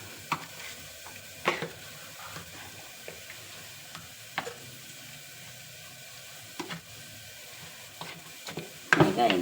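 A spoon stirs a garlic and onion mixture in a pan for mutton chops. Sparse, scattered scrapes and clicks sit over a faint, steady sizzle, with a louder cluster of knocks at the end.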